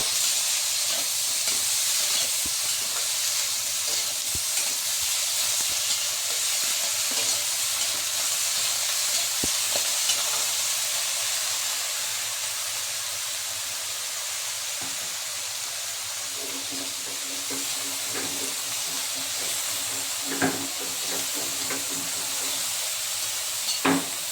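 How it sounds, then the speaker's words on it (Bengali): Brinjal pieces frying in oil in a pan for foli fish paturi, a steady close hiss and sizzle running throughout with occasional faint taps and scrapes of stirring. "এখন আমি ওই তেলটার মধ্যে বেগুনটা দিয়ে দেব। একটু নেড়ে চেড়ে"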